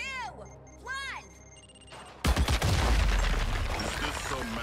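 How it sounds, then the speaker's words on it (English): A C4 charge detonating in Suicide Squad: Kill the Justice League, a sudden loud blast after a quiet stretch of voices, followed by a rolling rumble and crackling debris. "Watch out for the explosion!"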